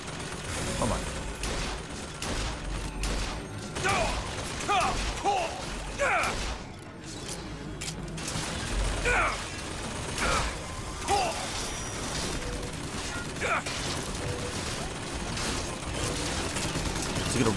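Gunfire rattles through a Bioshock Infinite fight as a steady barrage of shots and clanking mechanisms mixed with crashes, while a voice talks over the action.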